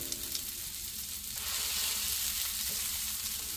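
Burger meat balls and piles of onions sizzling on a Blackstone griddle, a steady broad hiss that swells louder partway through, close and continuous with no voices.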